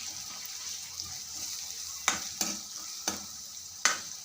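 Garlic sizzles steadily in a frying pan for masoor dal, a close hiss punctuated by four sharp scrapes of a spoon as it is stirred, with no voices.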